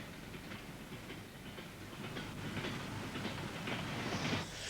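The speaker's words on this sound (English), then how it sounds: "Heading south and destined for Leeds is this diesel-hauled train of empty coal wagons." A diesel-hauled goods train of empty coal wagons passes at moderate distance, its steady rumble and rolling wagon noise building gradually, with rhythmic clicks from the wheels on the rails growing louder near the end.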